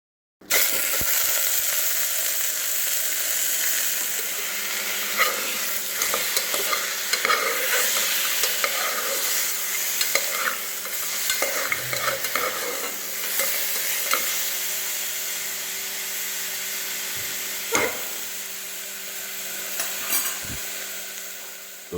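Mutton pieces stirred in a hot pan, sizzling steadily and loudly throughout, with occasional clinks and scrapes of the spoon against the pan and no talking.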